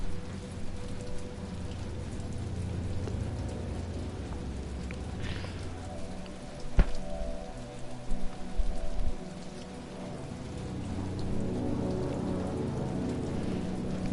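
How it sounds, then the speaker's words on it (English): Steady rain falling on surfaces in the video game Detroit Become Human, a continuous soft patter with one brief sharp knock in the middle and no voices. "That rain is really good."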